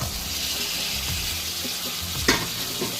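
Fried crab gets stirred into a spice paste in a pan: a dense, close sizzle with soft scraping movements and one sharper clatter toward the end.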